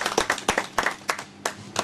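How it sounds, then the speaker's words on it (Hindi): Audience applause at a quiz competition for a participant collecting a certificate, a short burst of several irregular hand claps, fairly close and brief. "लविश के लिए जोरदार तालियां।"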